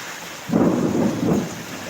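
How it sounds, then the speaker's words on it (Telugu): Heavy rain hisses steadily while a deep roll of thunder rumbles up, swells for about a second, then fades back into the downpour. "మాకైతే ఫుల్ వర్షం అండి చాలా రోజుల తర్వాత వర్షం పడుతుంది"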